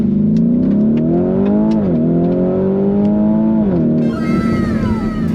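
A Lamborghini Urus S engine in sport mode revs up with a loud, rising, droning exhaust note that dips and climbs again, then a harsher rasp as it accelerates, close and steady.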